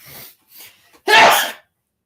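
A single loud sneeze bursts out after two soft breathy intakes, close and sudden, then silence.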